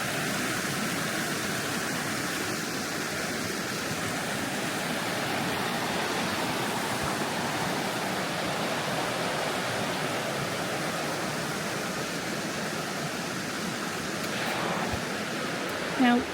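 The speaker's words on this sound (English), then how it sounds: "I think this small body of water right here is a creek." Spruce Run Creek in Oregon flows toward the Nehalem River with a steady, close rush of water, a constant broadband hiss that holds evenly for the whole stretch with no voices.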